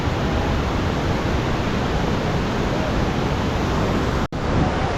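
The Mailung waterfall near Nuwakot in the monsoon season sends up a loud, unbroken roar of rushing water, steady and close, with a brief dropout near the end.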